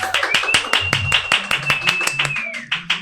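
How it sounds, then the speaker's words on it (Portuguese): An audience applauds to welcome a guest onto a podcast stage, a few distinct claps with a voice calling out over them, fairly close and lively for a few seconds. "Uma salva de palmas!"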